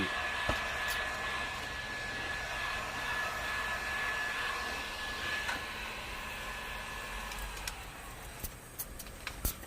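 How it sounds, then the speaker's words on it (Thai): A hot air blower heats a wrinkled front car bumper set on a stand so it can be bent back into shape, giving a steady, close whooshing hiss with a few faint clicks toward the end. "ตอนนี้เราก็ต้องใช้ ไดร้อนเป่านะครับ เพื่อจะดัดไอตรงรอยย่น ให้มันเข้าที่"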